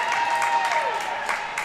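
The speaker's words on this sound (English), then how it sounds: "he'll get a nice little ovation from the crowd, acknowledging his goaltending debut and making that nice save with the leather" Crowd applauding a goalie's glove save in his goaltending debut at a developmental high school hockey game, Connetquot Sayville Gold versus East Islip Black; steady mid-level clapping with a rink whistle-like tone and some voices mixed in, sustained throughout.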